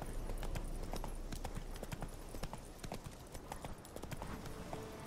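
A ridden horse in The Witcher 3 clip-clops steadily along, its hoofbeats even and continuous over a constant background bed.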